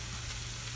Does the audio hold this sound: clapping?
no